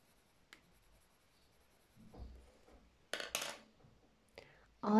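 Crayon or pencil coloring a bird drawing on paper, the beak done in orange, in a kindergarten art lesson; faint intermittent scratching strokes and small handling clicks, quiet and close.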